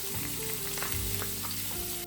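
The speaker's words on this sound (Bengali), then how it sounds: "যেই তেলে মাংস ভেজেছি সেই একই তেলে আমি রসুন কুচিগুলো দিয়ে দিচ্ছি।" Chopped garlic dropped into hot oil already used for frying beef, giving a loud, continuous close sizzle with light stirring over a low hum, no talk.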